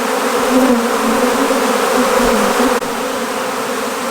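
A dense swarm of bees hums steadily around a farm beehive, a loud, continuous close-up drone with a slight waver in pitch and no pauses.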